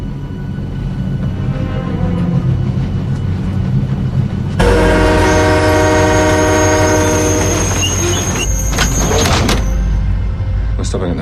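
A moving train rumbles steadily, then a loud, sustained train horn blasts in close with rich harmonic tones for several seconds before fading back into the low rolling rumble and clatter.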